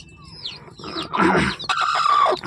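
A protective mother hen clucks and calls among newly hatched chicks, whose thin high peeps rise above her louder, close, rasping vocalizations.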